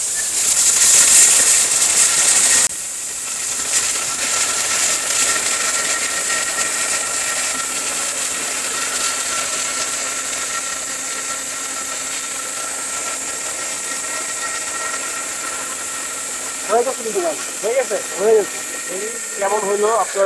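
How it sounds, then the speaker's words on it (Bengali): A Niyama electric blender with a 21,000 rpm, 100% copper motor grinds gram flour or turmeric into powder, a loud high whine for under three seconds that cuts off abruptly, followed by a low background hum and someone talking. "ব্লেন্ডারে আপনি বেসন করতে বা কিংবা হলুদ করতে দেখেন হয়ে গেছে দেখেন একেবারে মিহিম পাউডার"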